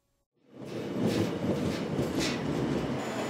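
A Donghae line passenger train heading to Yeongdeok from Pohang rumbles steadily after a quiet start, a dense close interior roar of wheels on rails with faint clatter and no voices.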